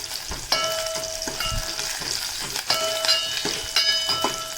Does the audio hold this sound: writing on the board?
no